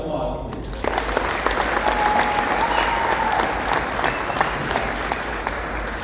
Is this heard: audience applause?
yes